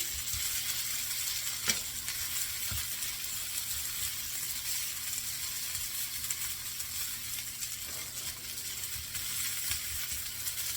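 Scattered hash browns fry in butter on a griddle with a steady, close hiss and crackle, broken now and then by small scraping taps.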